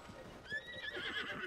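A horse in The Legend of Zelda: Tears of the Kingdom whinnies once, a short high-pitched neigh rising and wavering, fairly faint and clear.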